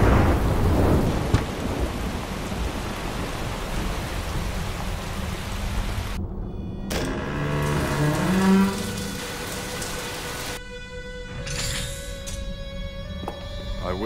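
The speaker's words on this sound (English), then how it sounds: "It's raining." In an anime scene, steady rain falls while thunder rumbles low through the scene, loud at first and then fading. The rain carries on under abrupt cuts and other brief sounds.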